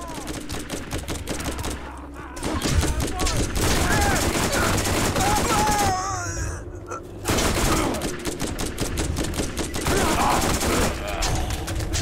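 Bandits open fire in the video game Borderlands with dense, rapid automatic gunfire crackling almost nonstop, broken by two brief pauses, while someone talks and reacts underneath.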